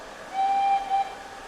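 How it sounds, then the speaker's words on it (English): A single short steam whistle from an SDJR 7F 2-8-0 steam locomotive in Train Simulator Classic gives one steady, clear tone of under a second over low background noise. "we also have the short whistles on the V key"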